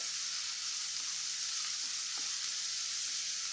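Chettinad chicken gravy ingredients, such as chilies and curry leaves, fry in hot oil with a steady, even sizzle that hisses close and loud from start to end with no talking.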